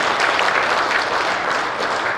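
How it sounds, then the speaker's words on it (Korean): Audience applause at a special lecture hall event in Sokcho, a dense, steady wash of many hands clapping at close range, sustained evenly for a couple of seconds with no voices over it. "이때는 박수를 한번 치죠"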